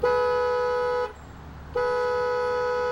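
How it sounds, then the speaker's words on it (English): A car horn at a gas station blares in two long, loud, steady tones separated by a short gap, close by with no one speaking. "After honking 3 times,"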